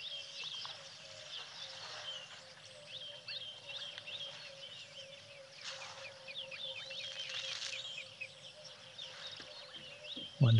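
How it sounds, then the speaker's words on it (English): Birds call in the African bush on a cool, overcast morning near elephants, including emerald-spotted wood doves. The chirps and calls are faint and distant, layered over a steady low background hum, and no one speaks. "Wonderful bird calls in the background."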